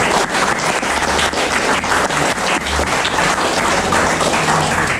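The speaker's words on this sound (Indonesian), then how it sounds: "Tepuk kita untuk Bapak Ibu Guru" A school gathering bursts into sustained applause honoring the teachers, many hands clapping loudly and evenly close by, with no speech over it.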